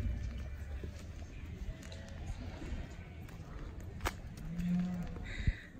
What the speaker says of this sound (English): They're giant snoring pigs.